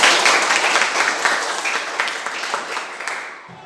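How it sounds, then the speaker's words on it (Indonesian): A class of students applauds during a physical education lesson, a dense burst of clapping close by that holds steady and then tapers off near the end. "Tepuk tangan dulu untuk kalian."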